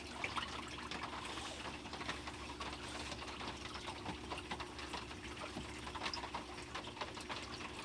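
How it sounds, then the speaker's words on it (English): Water runs steadily onto dirt in a backyard prospecting toolbox sluice, a continuous close wash of flowing liquid over a low hum, alone with no talk. "we'll get this dirt wet."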